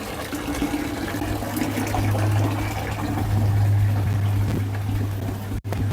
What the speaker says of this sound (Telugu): దీంట్లో ఇప్పుడు మనం వాటర్ వేసి బాగా మిక్స్ చేయాలి